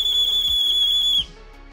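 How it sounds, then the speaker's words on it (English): A homemade survival whistle with a small ball inside gives a loud, high, steady shrill tone with a slight trilling waver. It lasts just over a second and then stops abruptly. "Inserting a small ball into the whistle introduces pitch variations and produces a trilling sound as the ball"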